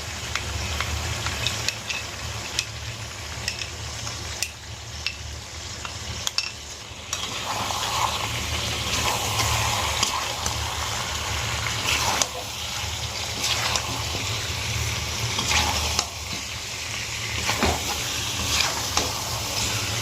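Whisked sour yogurt poured over chicken in a hot pan for chicken do pyaza, a steady loud sizzle with scraping stirs and bubbling that carries on throughout.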